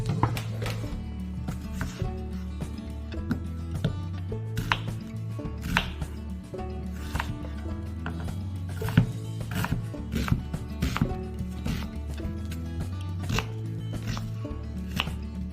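Close, steady knife chopping of an onion on a board, a rapid run of crisp thuds with short irregular pauses, continuing throughout without talk.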